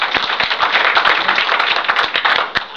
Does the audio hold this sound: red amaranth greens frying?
no